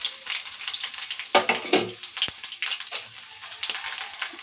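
Dried red chillies, garlic and cumin crackle in hot oil for a ridge gourd curry, an uneven close sizzle with scraping stirs and a few sharp pops, no voices over it.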